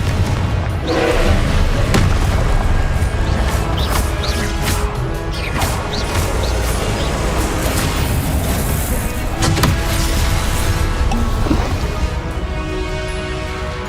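In Hogwarts Legacy, Confringo spell blasts keep detonating amid a dense, loud wash of crashing booms, thuds and clattering debris, with almost no pause across the stretch.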